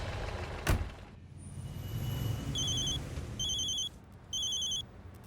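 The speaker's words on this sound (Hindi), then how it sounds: "लो आ गया फिर से डीएसपी सर का फोन।" A telephone rings in a few short repeated bursts in an indoor scene from a Hindi police drama, preceded by a single sharp knock or thud; no one talks over it.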